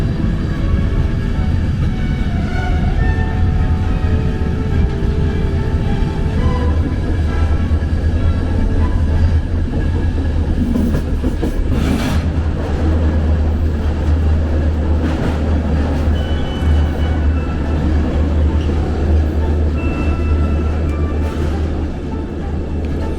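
A train crossing the bridge over the Danube, giving a steady, close rolling rumble with low mechanical drone that stays even throughout, with no voices.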